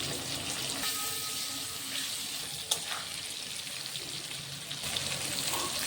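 Potato and pointed gourd fry in a pan with a steady hiss and crackle, broken by a single clink of a utensil partway through.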